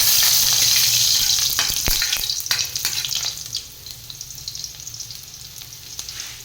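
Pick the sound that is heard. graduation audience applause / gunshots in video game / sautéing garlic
sautéing garlic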